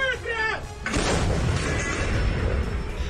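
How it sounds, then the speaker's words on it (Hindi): Russian howitzer artillery fire near Kupiansk, with a broad booming blast and sustained rumbling roar that fills the clip after a brief stretch of voice-like tones, loud and dense throughout. "रशियन आर्टिलरी ने भीषण अटैक को अंजाम दिया"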